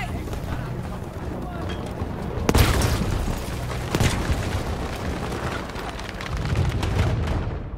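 Grenade blasts in Battlefield V during an artillery emplacement attack: a sharp heavy boom followed by a second thud moments later, over rumbling battlefield noise and faint voices.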